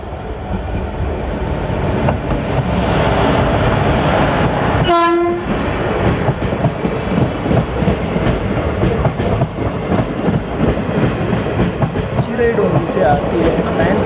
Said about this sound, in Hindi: ये नैनपुर जबलपुर पैसेंजर ट्रेन ही है, WAP 4 लोकोमोटिव ट्रैक्शन दे रहा है इस नैनपुर जबलपुर पैसेंजर ट्रेन को